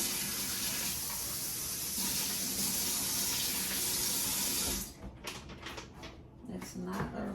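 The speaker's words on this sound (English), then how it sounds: "Same thing with this packet. Just rinsing it out" A plastic packet rinsed under a running kitchen tap, with a steady close rush of water that breaks into splashy, uneven spatters as the flow is interrupted near the end.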